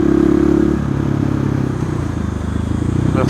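A 2020 KTM 690 SMC R motorcycle engine drones loud and close, its pitch shifting as it pulls to overtake a truck, with wind noise and a faint rattle.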